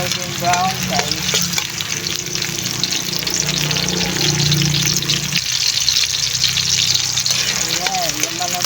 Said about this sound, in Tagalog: Haluin lang natin ito ng maigi guys.